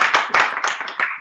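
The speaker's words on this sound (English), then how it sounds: "let's just give her a giant round of applause" A few people clap during an online real estate team meeting, a short patchy burst of separate hand claps in uneven rhythm, thin and close as if coming through computer microphones, with no talking.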